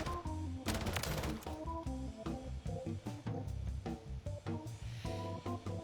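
Ball 27 assault rifle firing in a video game: rapid bursts of loud automatic gunfire crackle in close succession, alone and dense throughout.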